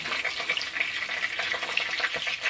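Bay leaves, dried red chillies and whole cumin crackling in hot oil for mutton curry, a steady close sizzle with small popping bursts throughout and no talking.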